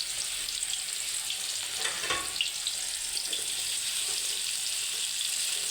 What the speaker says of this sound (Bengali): পেঁয়াজটাকে ভালোভাবে একটু হালকা করে ভেজে নেব